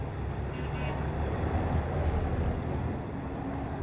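Slow street traffic in Beijing in 1965: a steady, dense roadway rumble of passing vehicles fills the whole stretch, with possible faint horn toots blended into the noise and no clear voices.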